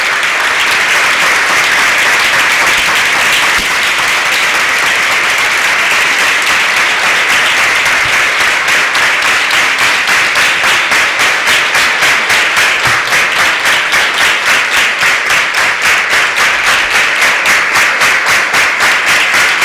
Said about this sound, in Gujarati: સાઠ દીવડા પ્રજ્વલિત થાય ત્યાં સુધી અખંડ તાળીનો ગડગડાટ તાળીનો નાદ આપણે ચાલુ રાખીશું